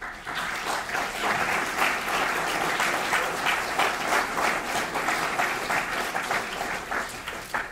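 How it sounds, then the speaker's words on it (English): An audience at a Jewish Federation annual meeting breaks into sustained applause, dense clapping from a large room filling the whole stretch at steady loudness. "Please join me in a round of applause"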